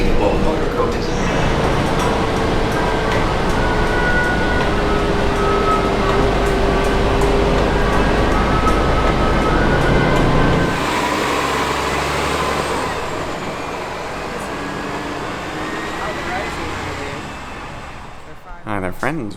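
A Disney's Animal Kingdom motor coach rolls along with a steady, loud engine and road rumble that eases and softens partway through, and a voice talks over the ride.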